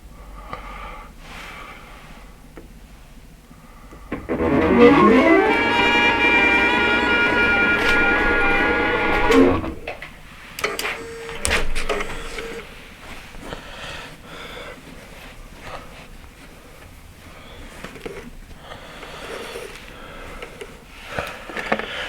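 An embroidery machine stitching a design with thick Egyptian cotton thread, a rising whine that settles into a steady, buzzing mechanical hum for about five seconds before stopping, then quiet handling sounds.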